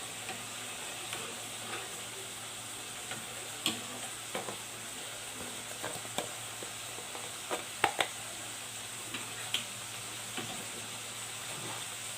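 Food frying in a pan in a home kitchen as it is stirred with a spoon, a soft steady sizzle broken by scattered clicks and scrapes of the utensil against the pan, fairly quiet with no talking.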